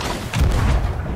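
A gunshot rings out in the pirate video game Sea of Thieves, a single heavy, booming report followed by a rumbling tail amid other in-game noise.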